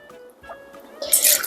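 Tequila is poured into a cocktail, a brief wet splash and gurgle of liquid rising near the end of a short, quiet moment.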